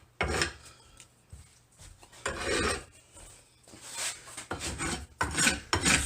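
A hand file rasps over bumps in the fiberglass gel coat of a C4 Corvette part, in uneven back-and-forth strokes of scraping, close and fairly loud, with short pauses between bursts and no talking.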